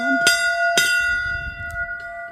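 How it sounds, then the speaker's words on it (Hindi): A metal bell at a dhuni shrine dedicated to Guru Gorakhnath is struck twice in quick succession, each clang ringing on with a sustained metallic hum, loud and close, followed by faint shuffling. "धूनी की घंटी बजा ले भाई।"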